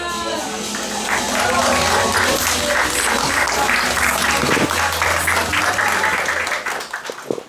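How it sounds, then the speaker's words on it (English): A comedy club audience applauds steadily during a hosted stand-up night, a thick sustained wave of clapping with voices and cheers mixed in, fading toward the end. "Yeah, keep clapping."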